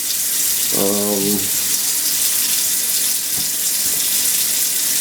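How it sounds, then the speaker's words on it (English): Water streams steadily from a kitchen sink tap during dishwashing, a loud continuous hiss filling the whole stretch, with a brief voiced sound and a clink of dishes partway through. "I'm going to be washing these dishes."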